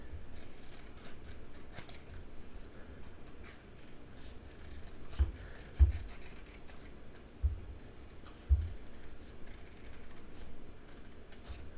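Quiet, close snips of scissors cutting out a paper unicorn shadow puppet, small repeated cuts with a few sharper clicks of the blades, set against faint rustling of paper.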